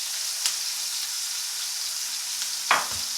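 Ramen fries in a pan with soy sauce, giving a steady bright sizzle close by, with a faint tap early on and a louder clatter near the end, nobody speaking.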